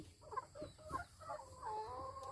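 A laying-breed chicken clucks in short, irregular bursts while it is held on its back for a breast-muscle vaccine injection. The calls come up close against a low rumble of background noise.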